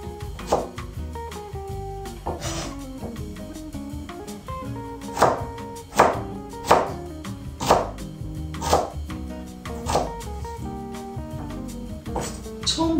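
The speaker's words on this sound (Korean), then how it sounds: "무 잘라 주는데요" A knife chops radish into small pieces on a cutting board, a series of sharp, evenly spaced thunks under steady background music.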